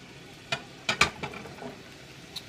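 Vegetables going into a hot pan of butter and minced garlic for shrimp gnocchi soup, giving a few sharp sizzling bursts and clatters over a quiet frying hiss, close by with no talking.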